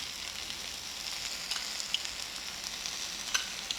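Minced meat stir-frying in a pan for a chilli mince, a steady close sizzle with a few faint scraping taps, no talking.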